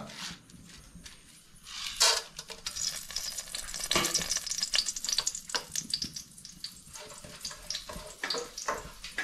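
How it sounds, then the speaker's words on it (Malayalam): Cardamom, cloves and cinnamon frying in hot oil for butter chicken, a close crackling sizzle with bursts of stirring and scraping that grows busier as it goes on. "ഓയിൽ ചൂടായി വരുമ്പോഴത്തേന് സ്പൈസസ്, ഏലക്ക, ഗ്രാമ്പു, കറുവപ്പട്ട"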